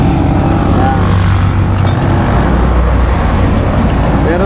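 A Yamaha Mio Soulty scooter with a cheap chicken pipe exhaust runs close by, giving a loud, steady, raspy drone that holds constant throughout.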